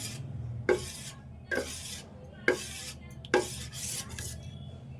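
A spoon works thin flour batter in a bowl with rhythmic scraping strokes, four or five distinct swipes each ending in a soft knock against the side, close and fairly quiet.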